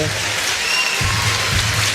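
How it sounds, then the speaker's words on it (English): A crowd applauds at a combat-sport fight event in the ring, a continuous wash of clapping and crowd noise with a male announcer's voice speaking over it in the second half. "Getting the applause from this crowd here"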